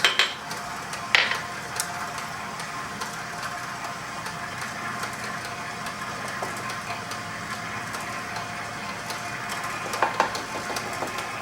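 A mixer beating chocolate buttercream with sugar, its motor humming steadily for the whole stretch, with occasional clinks and clatters of utensils against the bowl near the start and end, no voices.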